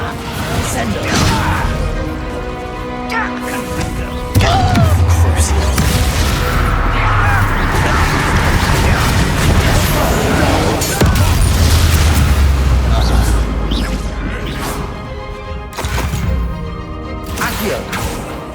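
Incendio fire spell blasts in the game Hogwarts Legacy during a goblin battle, loud repeated booming bursts and crackling roars amid swelling music and combat noise, with a voice speaking at times.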